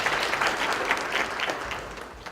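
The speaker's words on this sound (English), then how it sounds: "Please give them a round of applause." Audience applause in a faculty institute room for a university president's address, a steady dense patter of many hands clapping for a couple of seconds, fairly near and even in level.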